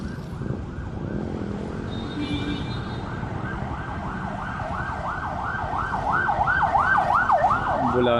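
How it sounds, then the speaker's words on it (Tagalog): An ambulance siren wails in a rising and falling pattern, growing louder as it approaches, over steady traffic rumble in a traffic jam in Bagong Ilog, Metro Manila. "Ambulansya."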